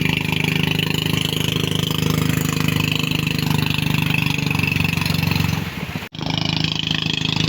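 A running engine drones loudly and steadily, then dips briefly and cuts out for a moment before the droning resumes.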